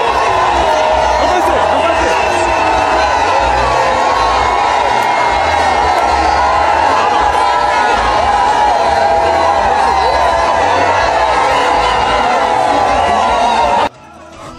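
A crowd cheers and roars with sustained, frenzied ovations as first lady Denise Nyakeru Tshisekedi arrives on the esplanade of the UDPS party headquarters, loud and dense throughout, with shouts and whoops mixed in before cutting off abruptly near the end.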